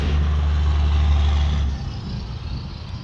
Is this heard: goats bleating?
no